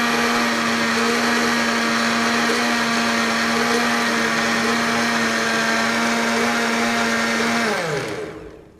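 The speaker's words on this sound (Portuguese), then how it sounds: "Tudo no liquidificador, gente." A kitchen blender whirs loudly and steadily, mixing cake batter with milk and ground cinnamon, its motor holding one even pitch before winding down at the end; no one speaks.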